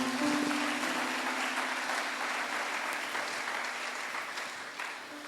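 Church congregation applauding steadily in a dense, sustained wash of clapping that fills the space, with a faint tonal hum underneath and no clear speech.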